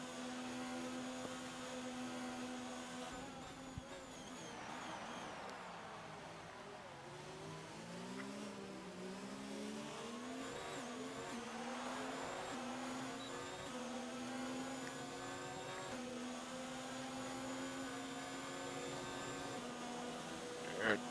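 A Formula-style race car engine in a racing video game, the F5 class at Abu Dhabi, drones steadily through a tunnel, its pitch rising and falling with gear shifts, a continuous faint whine with no voices.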